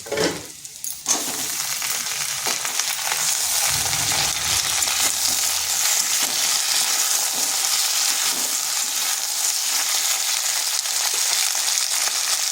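Broad beans drop into a pan of lightly fried potatoes with a quick clatter, then a loud, continuous hot-oil sizzle takes over and holds steady.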